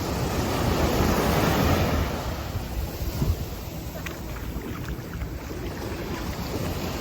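Ocean waves wash onto Leela Beach at Kovalam, near Trivandrum, as a broad, steady rush of surf that swells early on and then settles, with wind buffeting the microphone throughout.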